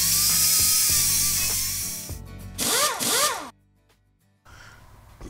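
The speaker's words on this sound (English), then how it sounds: "the next step is to grind your area that you're going to be welding on" A power tool grinds steel trailer frame pieces before welding, a whining spin that cuts in short bursts and drops out, then winds down and briefly starts again, fairly close with no talk.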